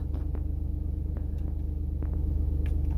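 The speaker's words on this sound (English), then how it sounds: "putting my foot down to test the acceleration and also the acceleration on the CVT gearbox" A 2022 Toyota Aygo X with a CVT gearbox accelerates under heavy throttle, a steady low engine rumble with an even pulse, heard from inside the cabin and swelling slightly toward the end, with a few light clicks.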